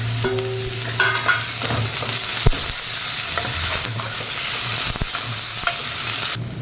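Curry leaves hit hot oil alongside green chili and spit in a busy, close sizzle, with occasional clicks and stirring taps through a steady crackle.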